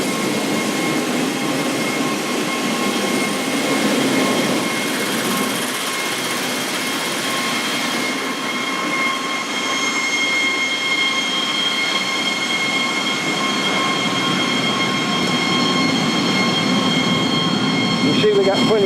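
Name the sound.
motor spinning an auger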